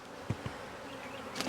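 Honey bees buzz around hives in an apiary, a faint, steady hum close to the microphone with a couple of soft knocks, and a bee passing nearer toward the end.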